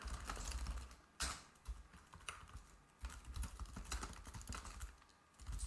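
Someone types on a computer keyboard while working in an operating system's code, quiet clattering keystrokes in uneven bursts with short pauses between runs.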